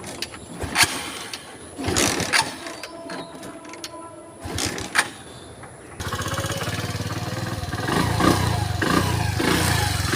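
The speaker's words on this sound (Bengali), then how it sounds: "গাড়িটা স্টার্ট করে দেখায় আপনাদেরকে।" A used motorcycle, run about 22,000 km, starts up and settles into a steady idle, with a few clicks and short bursts before the engine catches and then a continuous, fairly quiet running hum.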